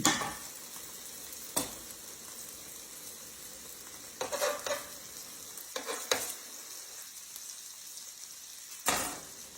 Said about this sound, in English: I'm just putting some garlic butter on my toast